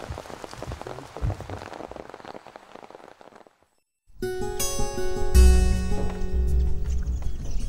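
Heavy rain pours steadily during the first few seconds, a dense close hiss of drops, before a brief silence and a switch to loud music.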